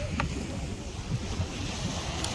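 Ocean waves pound the shore of Sandy Island in a constant surf wash with gusting wind buffeting the microphone, soft and distant-sounding, with no talk.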